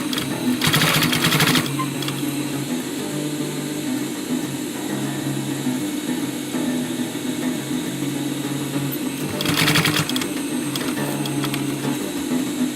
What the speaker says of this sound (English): try to sew 1/2 centimeter from the edge of the binding tape